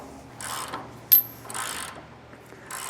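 A wrench tightening a nut on a trailer axle spindle bolt gives a few short ratcheting clicks in bursts, close and fairly crisp, with one sharper metallic tick between them and no talking.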